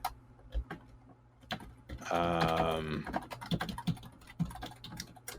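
Fingers clatter on a computer keyboard in quick, uneven bursts of clicks, close and fairly clear, with a short tonal, voice-like sound cutting across the middle.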